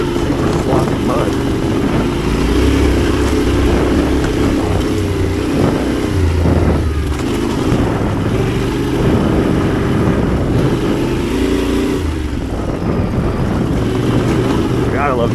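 Yamaha Tenere 700 motorcycle on its stock exhaust, ridden through sloppy mud on an ATV trail, with a deep, steady engine drone that swells and eases with the throttle, loud and close throughout.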